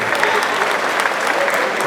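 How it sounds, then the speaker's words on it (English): An audience at a Liberian Independence Day oration gives loud, sustained applause for the national orator, a dense wash of clapping close by. "Let's give our national orator another hand of applause."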